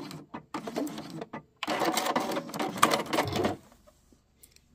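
A sewing machine runs close and loud while stitching a scissor pouch, a short burst then a longer steady whirring run of back stitches before stopping, with no talking.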